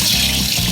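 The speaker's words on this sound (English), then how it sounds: "Let me just rinse off my hands." Tap water running over hands at a kitchen sink, a brief loud steady splashing rush.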